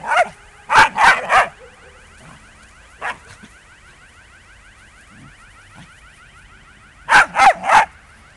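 A young puppy barks in quick triple bursts, then a single yap, then another run of three, loud and close over a steady high-pitched background tone.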